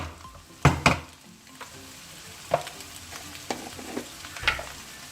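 Indonesian village-style fried rice is stirred in a hot pan, with scattered scraping clanks of a utensil against metal over a soft continuous sizzle.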